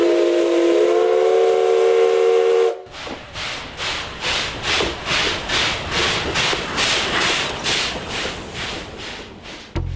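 An Oigawa Railway steam locomotive in Shizuoka gives a loud, sustained whistle for nearly three seconds, then chuffs away in steady rhythmic hissing bursts of steam.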